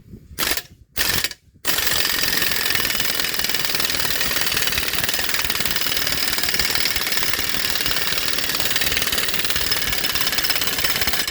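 A ball joint press being tightened on a Ford king pin type front axle, likely with an impact wrench: a few short bursts, then a long, loud, continuous rattling hammer close by.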